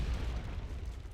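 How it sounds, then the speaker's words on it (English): Artillery shells exploding in the war strategy game Wargame: Red Dragon, heard as one brief, low, rumbling boom that fills the moment and then fades. "but some artillery coming in there"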